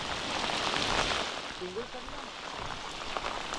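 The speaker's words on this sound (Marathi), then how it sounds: "तुफान पाऊस पडला आणि अजून पण चालूच आहे" Heavy rain pours down over a coastal creek during traditional fishing, a constant dense patter and hiss on surfaces, with a brief faint voice partway through.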